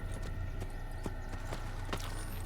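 Horse hooves clip-clop steadily in Assassin's Creed, a rhythmic series of close, distinct hoof strikes over a constant low ambient bed, with no talk.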